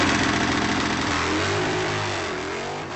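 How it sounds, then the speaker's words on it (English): At Sonoma Raceway, a car's engine roars loud and sustained through a burnout, holding a high, strained pitch with shifting harmonics before easing off slightly near the end. "Burnout."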